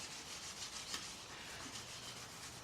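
Hand buffing of a freshly applied, still-wet orange oil finish on wood, heard as a steady, close rubbing hiss with soft scuffing strokes throughout and no talk.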